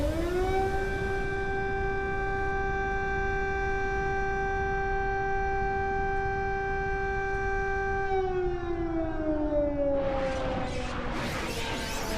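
An air raid siren wails on a long, steady tone, then winds down as crashing and shattering noise breaks in near the end.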